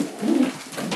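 Soft, low cooing from racing pigeons swells and fades in a short burst, close by, with a faint second coo toward the end.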